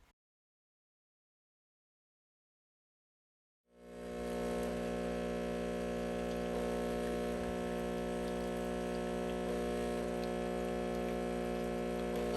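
A De'Longhi Dinamica super-automatic espresso machine brews iced coffee: after a few seconds of silence, a steady loud mechanical hum with pump drone and faint ticking starts up and runs without a break.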